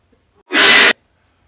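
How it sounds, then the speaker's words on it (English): A single loud, sharp sneeze bursts out after a brief quiet intake, lasting under half a second, then silence returns. "Now I have to sneeze."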